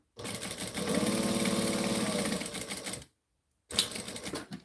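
A sewing machine stitches a purse, a rapid mechanical rattle running for about three seconds, stopping briefly, then starting again for a short backstitch burst.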